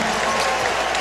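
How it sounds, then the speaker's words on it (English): A basketball arena crowd at a Louisville versus Florida State game claps and cheers in a loud, sustained wash of applause and mixed voices. "this is the loudest, liveliest I've ever heard the crowd"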